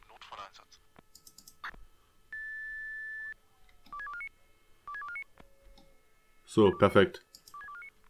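Telephone keypad tones in a video game with a Germersheim mod, used to call a tow service: short bursts of dialing beeps in quick clusters, plus a longer single tone, with a brief voice and clicking nearby.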